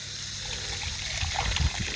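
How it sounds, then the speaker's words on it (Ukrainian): Well water poured into a glass, a soft, close trickling and splashing that grows slightly fuller over two seconds. "Зараз набираємо води і дивимося, полощуємо стакан."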